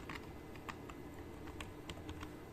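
Light, irregular taps of a computer keyboard as someone types text, several quick keystrokes in short bursts, close and quiet in a still room.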